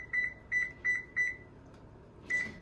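A kitchen timer beeps four times in quick, even succession, then once more after a short pause; sharp, clear electronic tones in a quiet room.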